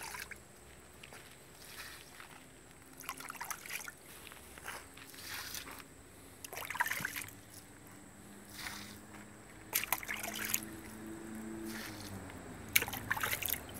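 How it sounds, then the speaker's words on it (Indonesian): Water pouring and splashing onto newly planted sweet potato beds, a soft, uneven trickle and slosh that swells and fades in bursts, fairly quiet and close, with no talking. "Berikutnya adalah penyiraman."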